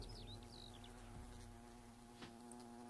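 Wasps droning in the video game A Fable Adventure, a constant low insect buzz with wavering whines layered over it, faint and unbroken, with no voices.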